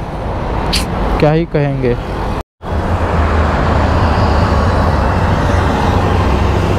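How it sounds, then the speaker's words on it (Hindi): Heavy road traffic on a busy Delhi street, a steady roar of engines and tyres running throughout, loud and close, with someone speaking briefly over it and a short dropout midway. "इतना ट्रैफिक है, इतना ट्रैफिक है कि भाई"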